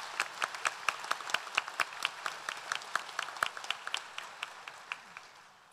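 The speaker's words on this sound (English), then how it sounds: "Another round of applause for these master teachers." An audience at a spring graduation ceremony claps steadily for several seconds, the sharp individual claps rising quickly and then slowly thinning out, with no talking over them.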